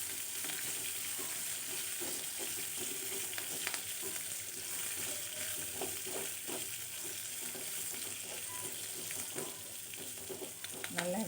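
Thuthuvalai leaves frying with horse gram in a pan, a steady close sizzle broken by light stirring and scraping throughout.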